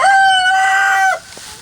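A single rooster crow, loud and close, one drawn-out call that cuts off abruptly, followed by a faint quiet tail.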